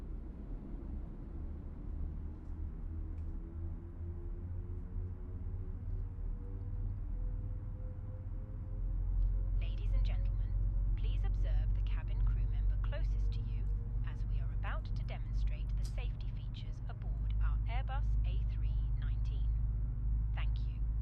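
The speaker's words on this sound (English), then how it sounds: "And so we can sit here in this view and listen to the engine start." Airbus A319 engine spooling up during start after pushback in Microsoft Flight Simulator 2024, a low rising whine that swells and steadies, with clicks and short cockpit tones scattered over the hum in the latter half.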